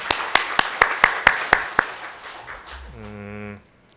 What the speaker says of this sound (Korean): 하나님께 영광 박수로 드리겠습니다